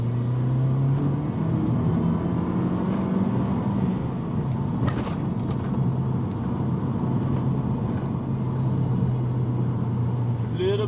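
A Mazda 6 with a 2.3-litre turbo engine pulls hard from second gear. A steady in-cabin engine drone rises in pitch through the first few seconds, then holds a constant, loud tone with road rumble underneath.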